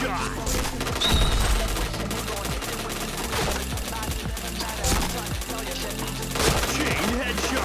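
Video game gunfire crackles in rapid repeated bursts over a dense, loud game soundtrack, close and continuous, with shots recurring every second or two.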